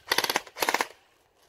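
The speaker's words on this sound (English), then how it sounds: "pull the light one out, and fire it. Full auto." A CSI XR5 airsoft pistol fires full auto in two rapid bursts of about six shots each, sharp, close and loud, then quiet.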